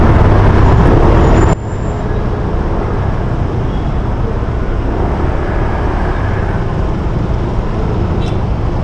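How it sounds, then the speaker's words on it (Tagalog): Continuous road traffic roar, loud and close, with a sharp drop in level after the first second and a steady broadband rumble of passing vehicles throughout, no speech heard. "traffic ah"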